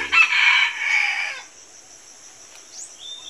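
A red junglefowl rooster crows once, loud and close, in a single drawn-out call lasting about a second, then quiet outdoor ambience with faint distant bird chirps.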